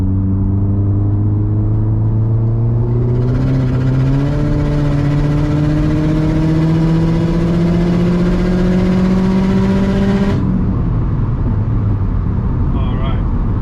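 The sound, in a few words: Subaru WRX STI S209 on E85 engine revving, accelerating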